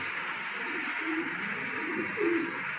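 A pigeon, a male with a broken tail, coos softly in a few low murmuring bursts, steady and fairly close under a hissy background.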